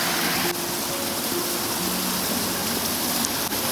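A monsoon waterfall spills from a high cliff in rural Konkan, a steady broadband rush of falling water, loud and unbroken, with no voices.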